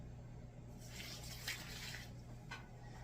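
A cup and a half of water is poured into a cooking dish holding half a stick of butter, a quiet, close splashing pour lasting about a second with a brief second trickle after.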